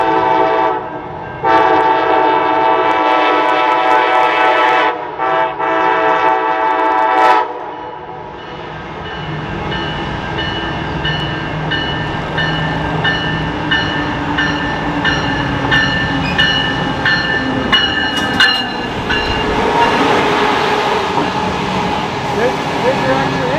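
Amtrak #352 passes through Royal Oak, Michigan, with an extra engine, its loud horn blasting in several long bursts before a steady rolling rumble of wheels and cars takes over. People talk nearby.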